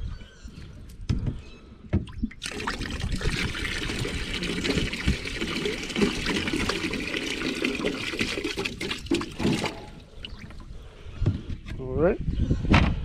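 Creek water with freshly caught minnows being poured into a container, a sustained splashing pour lasting several seconds, framed by handling clatter and someone speaking.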